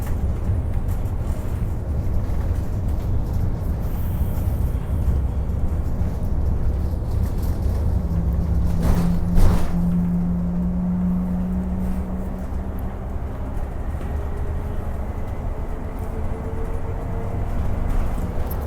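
A Transperth gas bus, fleet number TP2080, on route 553 driving along the coast from Shoalwater, with a steady low engine drone and road rumble heard from inside near the front, and a brief rising tone midway.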